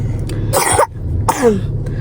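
Two harsh, close coughs from a person with a cough and cold, one after the other with a short pause between them, over a low background hum.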